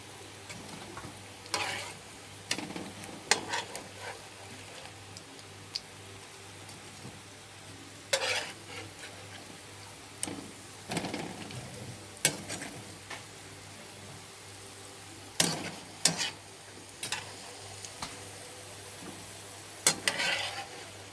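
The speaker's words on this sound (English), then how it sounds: "So I'm just waiting on this to fry, then I can get to saute my saltfish." Food frying in a pan ahead of sautéing saltfish, a continuous crackling sizzle broken by repeated sharp clatters of a utensil against the pan, with no talking.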